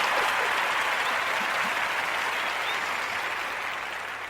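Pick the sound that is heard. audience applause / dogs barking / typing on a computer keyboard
audience applause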